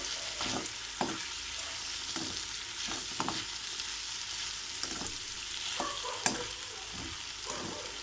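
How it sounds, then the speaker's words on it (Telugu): Sabudana khichdi stirred in a hot pan to work the salt through, with repeated scraping strokes every half second or so over a soft, steady sizzle, close and fairly quiet, no voices. "బాగా మిక్స్ చేసుకుందాము. బాగా కలపాలండి, లేకపోతే అక్కడక్కడ ఉండిపోతుంది సాల్ట్."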